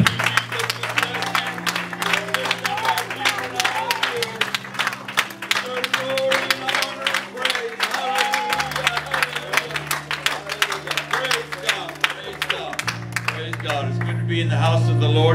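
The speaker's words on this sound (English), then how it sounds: "Let's give the Lord a good hand clap of praise today." Church congregation clapping hands in praise during a worship service, a dense continuous patter of many hands under organ or keyboard chords, with a voice speaking over it.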